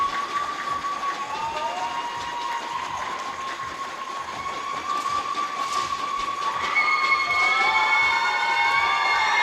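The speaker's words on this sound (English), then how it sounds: "Nice to hear the crowd getting involved at the early stages of this gold medal match." A crowd cheers early in a junior mixed team air pistol gold medal match at the European Championship in Osijek, Croatia, with sustained whistle-like or horn-like tones over a steady, moderately loud crowd noise.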